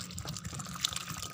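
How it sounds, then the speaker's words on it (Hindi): Water poured from a mug into a tomato plant pot, a steady close-up splashing gush with a faint trickle throughout. "तो पानी हम पहली बार जो है ना ज़्यादा से ज़्यादा देंगे ताकि अच्छी तरह हमारे गमले की मिट्टी जो है वो नम हो जाए।"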